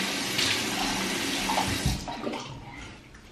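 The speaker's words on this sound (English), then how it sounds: "I'm just gonna splash some water on it." Water splashed onto a face at a bathroom sink with the tap running, a steady close wash of water with a few louder splashes, no talking.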